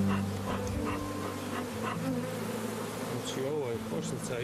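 Honeybees buzz around an open hive as frames of honey are checked, a steady close drone of many insects with no talk.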